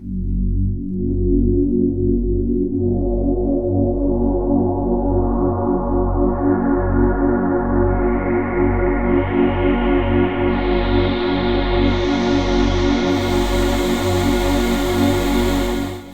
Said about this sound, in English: Let's try it with the bar filter.